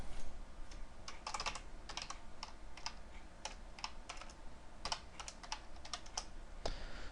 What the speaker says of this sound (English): Let me shrink this down so you can see me actually typing these out.